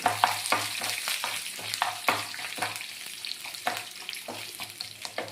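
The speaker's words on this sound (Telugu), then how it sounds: "మెంతులు, కొంచెం ఆవాలు, కొంచెం జీలకర్ర పోపు వేసుకుని పోపు వేగిన తర్వాత బయటికి తీసుకోవాలండి" Fenugreek seeds, mustard seeds and cumin tempering in hot oil, a steady close sizzle broken by repeated stirring scrapes and small pops, with no talking.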